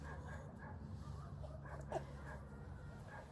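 A dog that has wandered up outdoors on a grassy yard gives soft, low whimpering and yipping sounds over steady background noise, with one brief sharper yelp near the middle.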